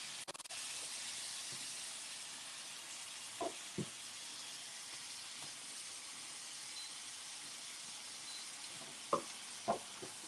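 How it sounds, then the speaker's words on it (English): Food sizzling in a pan while cornmeal and curry are cooked, a soft steady hiss running throughout at low level, broken by a few faint clicks and clinks of utensils. "You hear that sizzle? You hear that sizzle?"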